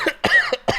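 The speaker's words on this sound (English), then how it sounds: "What a time to cough." A person coughs several times in quick succession, close and loud, with sharp bursts and short gaps between them.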